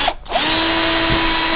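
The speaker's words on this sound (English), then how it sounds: "And now I need to drill a hole for the LED leg." A power drill bores a hole partway into a dry erase marker. The whine is sustained and steady, comes from close by, and follows a brief dip as the bit engages.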